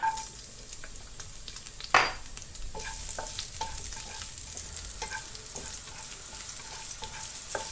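Garlic sautéing in a pan for a creamy salmon pasta: a continuous soft sizzle with clicking stir strokes of a utensil and one sharp clang near the start, close and without talk.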